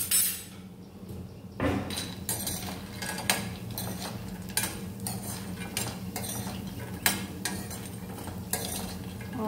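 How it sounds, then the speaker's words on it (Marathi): Soybean chunks fry in oil in a pan, with a steady low sizzle under repeated sharp scrapes and clinks of a spatula stirring against the metal, close by and without talk. "आणि आता ह्या तेलावरती मी हे जे सोयाबीन आपण घेतलेलं आहे ते जस्ट थोडासा त्याला लाल रंग येईपर्यंत परतून घेणार आहे।"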